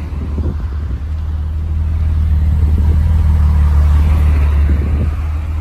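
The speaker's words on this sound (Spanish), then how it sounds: "No me olvido de pisar el acelerador." BMW 325 E30 Cabrio with an Alpina B3 engine revving, a deep steady idle swelling into a louder sustained rev before easing slightly, close and clear with no talk over it.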